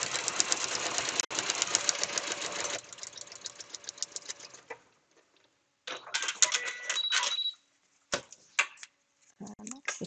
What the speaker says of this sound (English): Lining up the straight line with the gap in the middle of my presser foot. And sew along.